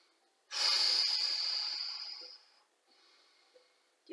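During a yoga exercise, one deep, forceful breath rushes out close to the microphone for about two seconds and fades, followed by a fainter, shorter breath.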